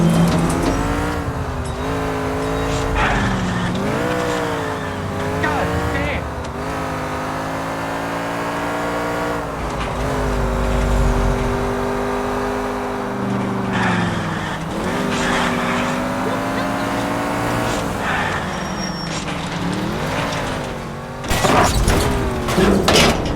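Car engine in the L.A. Noire video game, a steady droning motor with rising and falling revs and shifting pitch throughout, loud and continuous, with a brief burst of louder noise near the end.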